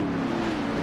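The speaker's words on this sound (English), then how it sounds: "they all do sound so good driving past" NASCAR stock cars in a sim race, a brief loud burst of engine roar with a steady mid-pitched drone as cars sweep past.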